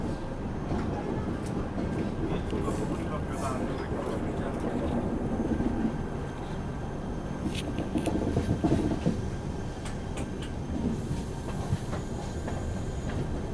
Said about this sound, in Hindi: चलो दोस्तों निकल गई ट्रेन अपनी न्यू बोंगाईगांव जंक्शन से